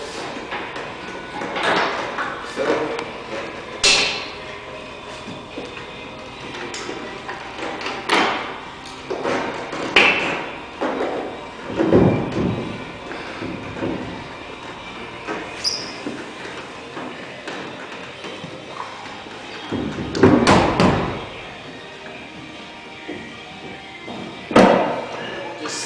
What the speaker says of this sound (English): We're going to need to release these clips.